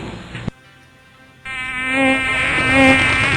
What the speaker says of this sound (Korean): 수많은 파리떼가 나타났고